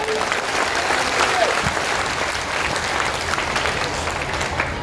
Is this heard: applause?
yes